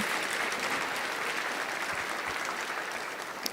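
A church congregation applauding during a worship service, a loud continuous wash of many hands clapping close by, steady throughout with no speech on top.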